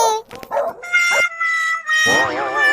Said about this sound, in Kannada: ನಾಯಿಗಳು ಒಟ್ಟಿಸ್ಕೊಂಡ್ ಬರ್ತಾ ಇದಾವೆ ನನ್ಗೆ